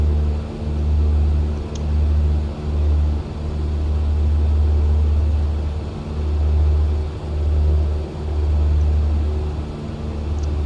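A small propeller airplane flies toward the runway at Comox, its engine a loud, close, continuous droning hum that swells and dips in a regular pulsing rhythm, with no talk.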